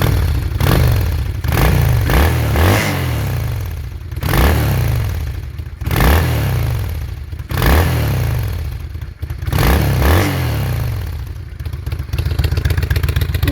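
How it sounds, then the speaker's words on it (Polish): A 1999 Honda VT600 Shadow motorcycle running through its original exhaust revs in repeated bassy bursts, about five throttle blips rising and falling close to the listener, with no voices. "układ wydechowy jest oryginalny, ten dźwięk jest taki bardzo basowy"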